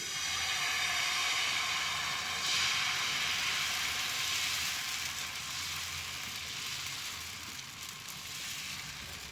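Dosa batter sizzles steadily on a hot pan, a continuous close frying hiss that stays even throughout with no voices.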